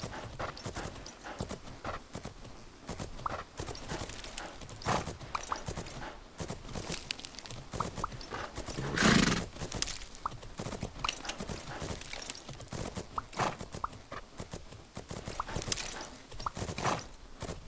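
Horse hooves in the game Fernhoof Grove clop in a steady walking rhythm, close and distinct, with one louder breathy snort midway through, all without talk.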